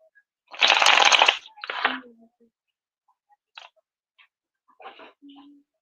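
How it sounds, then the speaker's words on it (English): Two loud bursts of tarot cards being shuffled, riffling and then settling, followed by softer card taps and handling sounds in a quiet room. "Sorry if my shuffling is loud."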